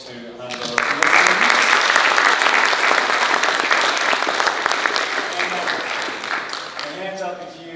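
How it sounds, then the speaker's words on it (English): A big round of applause from the audience at a renewable energy forum, clapping swelling quickly to a loud, sustained burst and then gradually fading, with a voice speaking at the start and end. "We give another huge round of applause to"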